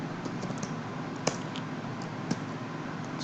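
Someone types on a computer keyboard while entering a country name into a Python COVID-19 case-tracking program. Soft, sparse key clicks sit over a steady low room hum, with a couple of sharper taps standing out.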